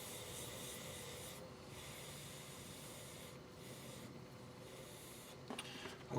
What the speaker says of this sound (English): I'm starting out with 320 because this is already sanded out pretty well when I was shaping it.